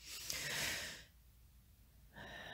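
Amplified breathing during a sophrology relaxation exercise: a long, loud breathy exhale, a quieter pause, then another steady breath rising again near the end, close and alone with no talking.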